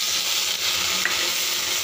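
Green chillies, cumin and coriander seeds frying in oil in a pan, a steady close sizzle with a faint stir partway through.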